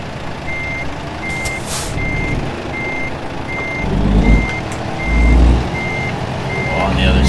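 Reversing beeps from a truck in American Truck Simulator sound as a steady, evenly spaced series of high electronic tones over a low engine rumble, with a couple of deeper surges from the engine and brakes along the way.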